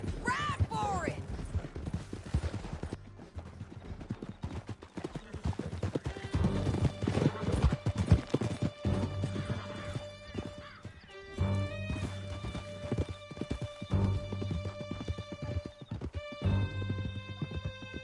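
Horses gallop in Red Dead Redemption 2, a steady clip-clop of hoofbeats with a neigh near the start, under game music and a chase scene, with voices talking over it.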